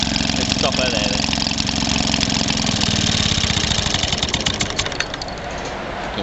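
A vintage 1946 Maytag Model 72D washing machine engine runs at about 1350 rpm, a loud, close, rapid steady putter that loosens and slows slightly toward the end.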